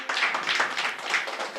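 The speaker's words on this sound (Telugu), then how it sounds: "చప్పట్లు కొట్టరే." Church congregation at a fasting prayer service clapping hands in quick, uneven bursts, a moderately close patter of claps filling the short moment with no talk over it.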